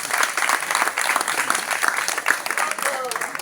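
Crowd applause at a political rally for legislative elections in Gabon, a steady dense wash of clapping with cheering voices mixed in throughout.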